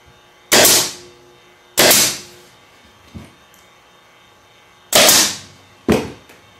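A staple gun fires into leather upholstery on horse-hair padding, five sharp snapping shots at uneven intervals, three loud and two lighter, each with a brief decaying tail, close up and alone.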